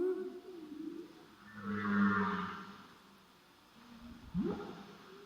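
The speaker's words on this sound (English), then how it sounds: "is a humpback whale singing north of Bering Strait, nice and loud" A humpback whale sings underwater north of the Bering Strait, loud moaning and rising tonal phrases swelling midway, fading, then a sharp upsweeping cry near the end.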